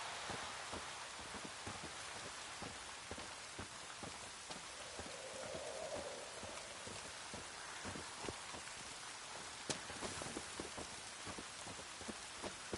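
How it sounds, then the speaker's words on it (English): Steady rain falls in a Witcher 3 game scene, a dense patter of drops hitting surfaces that runs without a break, with a faint rumble in the background and no voices. "Looks like rain."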